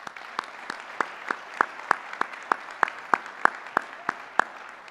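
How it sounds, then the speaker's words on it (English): An audience at a National Technical Honor Society induction ceremony applauds for teachers, with soft general clapping under a prominent single pair of hands clapping in a regular, evenly spaced rhythm close by. "So I'd like to give them a big round of applause."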